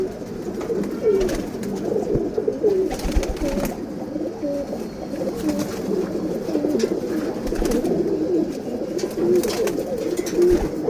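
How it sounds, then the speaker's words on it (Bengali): Female pigeons cooing in a loft, a dense overlapping chorus of soft throaty coos from several birds close by, continuous with faint rustling and occasional wing flutters. "এগুলো হচ্ছে মাদি কবুতর।"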